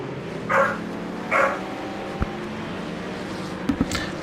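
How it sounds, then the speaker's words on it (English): Dogs bark in the background during a sim racing broadcast, two muffled, distant barks early on and a few more yips later over steady room noise; no clear talking. "Apologies if you can hear dogs barking in the background."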